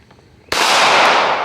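A single sharp pistol shot fired at a target, an abrupt loud crack followed by a broad ringing decay outdoors, alone without talk.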